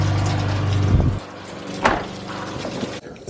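A Tesla Model Y liftgate swings shut with a single solid, close thump, preceded by a softer knock and set against a low steady hum.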